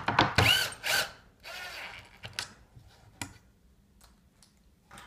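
Power drill driving screws to fix clips onto a gate frame, a few short close whirring bursts with clicks, tapering to faint handling noises.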